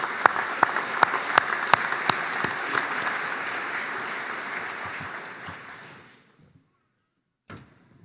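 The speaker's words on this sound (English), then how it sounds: "Please join us in a round of applause to recognize the important role of our MGA Foundation and the donors who give to it." Audience applause at a Middle Georgia State University spring graduation ceremony: a large hall of steady clapping with sharp individual claps on top, which fades out and ends in silence.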